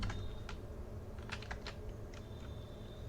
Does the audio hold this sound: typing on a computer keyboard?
yes